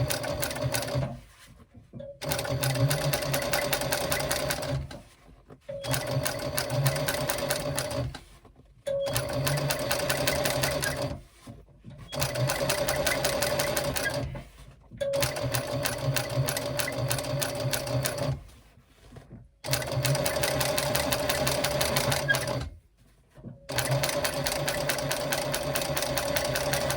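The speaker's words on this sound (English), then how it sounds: "I pull on both pieces as I sew, and my finger underneath is pushing that seam allowance the way it needs to be" Sewing machine stitching a backpack fabric seam, running in about seven loud steady bursts of rapid whirring stitches, each separated by a brief pause as the fabric is repositioned.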